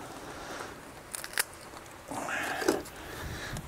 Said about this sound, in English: Keep a pair of pruners on hand to cut the feet off so I don't dull my knife on the bones.